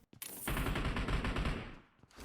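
Rapid automatic gunfire from the mobile battle royale game PUBG Mobile, a loud sustained burst of shots lasting most of the moment before tapering off, with no voices over it.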